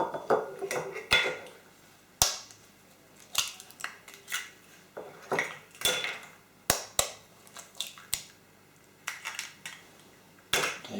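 Large eggs for a Victoria sponge cake are cracked against a bowl: a series of sharp, close knocks and taps, some in quick pairs, separated by quiet pauses with faint handling clatter.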